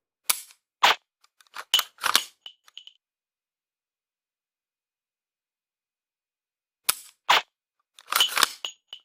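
Dry-fire practice with a CMMG MK9 fitted with a G-Sight laser training firing pin: sharp, close mechanical clicks in quick clusters of several shots, a long silent pause, then another rapid string, with no talk.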